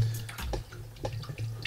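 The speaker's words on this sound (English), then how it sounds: "this is our water coming in from the vat. We're slowly filling up our tank." Salt water flows steadily from a vat into a reef aquarium tank built over aquascaped rock, giving a continuous close splashing and gurgling with no talk.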